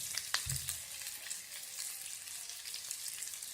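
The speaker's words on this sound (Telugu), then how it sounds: "అదే ప్యాన్లో కొంచెం ఆయిల్ వేసుకుని సన్నగా తరిగి పెట్టుకున్న వెల్లుల్లి, సన్నగా తరిగి పెట్టుకున్న అల్లం" Garlic, ginger and green chili frying in oil in a pan, a soft continuous sizzle with a brief clatter near the start, heard close and alone.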